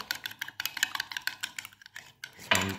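A spoon stirring Bear Brand milk coffee with sugar in a glass, rapid rhythmic clinks and scrapes against the glass, close and fairly quiet, ending with a louder clatter.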